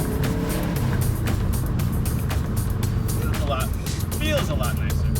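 A Subaru WRX fitted with a lightweight crank pulley pulls hard from 2,000 rpm, its turbo spooling over a loud, steady engine drone heard from inside the car, with brief vocal sounds near the end.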